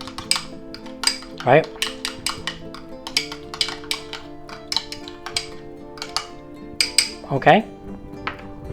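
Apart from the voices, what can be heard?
mixing Dijon mustard into mayonnaise in a bowl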